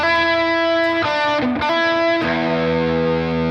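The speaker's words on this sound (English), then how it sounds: "it has that kind of fuzz distortion thing" Guitar played through a fuzz distortion effect pedal on a Halloween-themed pedalboard, loud sustained saturated chords with a brief break in the middle, then a new chord ringing on, with no talking.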